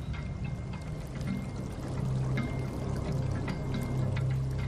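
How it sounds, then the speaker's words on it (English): Water poured over a scale model of the Channeled Scablands makes a continuous, close rushing and splashing pour that swells slightly louder partway through and keeps running steadily to the end. "poured water over it to represent the failure of glacial Lake Missoula"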